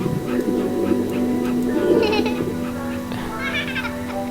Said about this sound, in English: It's a service dog.